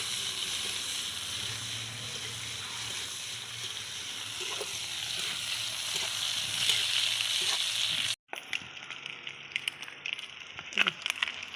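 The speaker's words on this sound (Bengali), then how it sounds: "তেল দিয়ে দিলাম আরও। পেঁয়াজ দিয়ে দিচ্ছি।" Onions hit hot oil in a pan and sizzle steadily, a loud continuous frying hiss with occasional stirring clinks. The sound cuts abruptly partway through and resumes more faintly with scattered pops.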